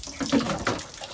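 Water from a hose splashes during outdoor bathing on a farm, a short burst of gushing and spattering with a little movement noise.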